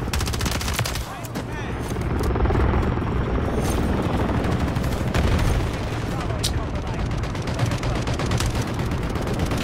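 An air support helicopter in Modern Warfare 3 chops overhead amid heavy bursts of machine-gun fire and explosions, loud and continuous, with shouted talk mixed in.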